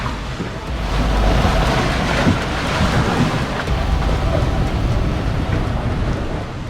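Waves and strong wind roll on the coast of Tanzania after a tropical storm, a loud, constant roar of surf with buffeting gusts against the microphone on a boat at anchor.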